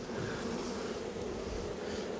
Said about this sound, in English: we've got lots and lots of bees on here